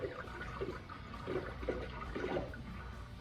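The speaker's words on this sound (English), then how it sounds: "Well, time to add the coolant." Coolant is poured into the engine of a 1964 Dodge Dart GT convertible with a 273 V8, producing a steady, low gurgling flow of liquid that runs continuously without talk.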